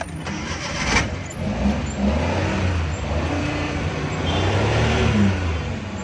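A Suzuki Ravi pickup with a petrol-to-CNG conversion fault cranks and its engine catches, then runs at a steady mid-pitched idle, close and fairly loud throughout.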